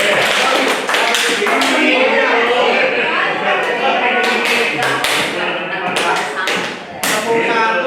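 A group claps out a counted pattern during a school training session, with crisp, close, irregular bursts of hand claps and a person talking over them.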